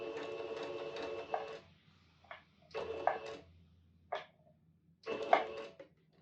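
A domestic sewing machine stitches a waist dart in short bursts, with about four runs of fast whirring separated by pauses, close and fairly quiet.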